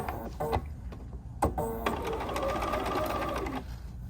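A sewing machine stitching a quilt block sews down an edge in a quiet indoor setting, first in a few short stop-start bursts and then in one steady, rapid, close run of mechanical whirring and clatter that halts near the end.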